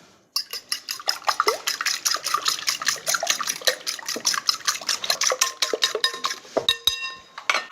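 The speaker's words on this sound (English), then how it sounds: "some salt, whisk them well" A whisk beats ingredients seasoned with salt in a bowl, a fast, steady run of close metallic ticks and scrapes against the bowl's side, with no talking.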